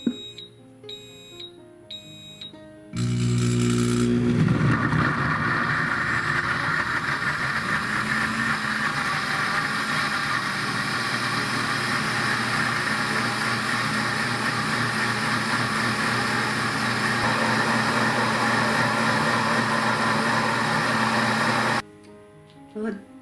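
Pampered Chef blender on its grind setting grinding roasted red pepper and walnut dip: loud, steady high-pitched motor whir starting abruptly after a few seconds, running continuously for about twenty seconds, then cutting off.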